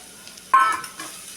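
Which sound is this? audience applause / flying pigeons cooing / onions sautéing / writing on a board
onions sautéing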